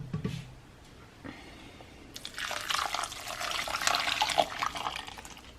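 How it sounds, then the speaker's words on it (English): Sauce pours over mustard-coated chicken, a wet splashing and trickling stream that builds after a quiet start and continues to the end. "And I'm just gonna pour the sauce on top of it."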